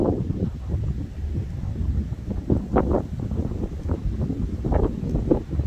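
Strong southeast wind blows during a supercell storm near Grenoble, Isère, buffeting the microphone in rough, low, gusty rumbles with brief sharper puffs.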